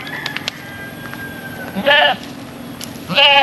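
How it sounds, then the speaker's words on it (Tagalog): Two short, wavering bleats from nearby goats in a pen, one near the middle and one at the end, over a quiet outdoor background. "So ayan yung mga kambing namin dito sa loob."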